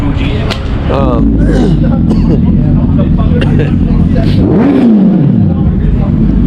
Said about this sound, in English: Is that a Prius with the exhaust?